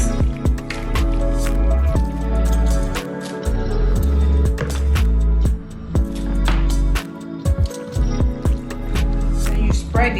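Béchamel sauce poured a little at a time over pasta for baking, giving repeated wet squishing and dripping sounds with thuds and clatter in a kitchen.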